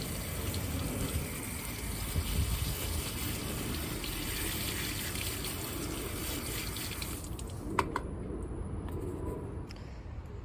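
Orchids freshly removed from a community pot are rinsed under running tap water to wash off pumice, giving a steady close splashing gush of water that stops near the end, leaving a few drips and light clatter.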